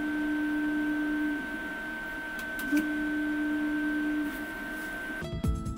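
A resin 3D printer lifts its build plate during a test print using resin that sticks readily to the film. A steady motor whine rises and falls in pitch, then a sudden thump and rattle at the end.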